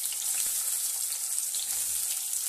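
Chopped onions frying in hot oil with ajwain in a kadai for vegetable fried rice, giving a steady, close, hissing sizzle that runs without a break.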